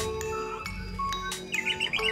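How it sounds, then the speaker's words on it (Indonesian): A green leafbird (cucak ijo), a songbird, gives clear, bright chirps and warbling notes that are near and fairly loud, with a busier phrase toward the end. "burung cucak hijau yang saya pegang itu"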